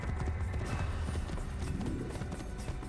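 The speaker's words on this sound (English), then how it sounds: "Time to gallop." A horse gallops in the video game Assassin's Creed, with a fast, continuous drumming of hooves, loud and close, filling the whole moment.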